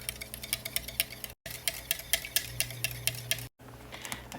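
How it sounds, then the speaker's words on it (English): Whisk beating a cream of soup casserole sauce in a bowl, quick rhythmic clicking strokes against the bowl, close and fairly quiet, broken by two brief silent gaps. "now we're gonna whisk this all together"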